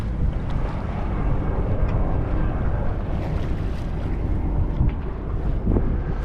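Strong wind buffeting a sailboat heading upwind near a rocky point in gusty conditions, a loud continuous low roar of wind against the microphone with water and rigging noise, no talking.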